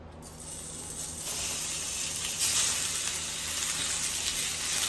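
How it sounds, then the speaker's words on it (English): Beef hitting hot olive oil in an iron skillet, a loud continuous sizzle that swells after the first second and holds steady and close throughout. "Now we will throw in our meat."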